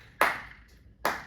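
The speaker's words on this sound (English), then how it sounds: "Which is basically clapping off beat." Two sharp hand claps land about 0.8 seconds apart, off the beat, close and crisp with a short ring after each and quiet between them.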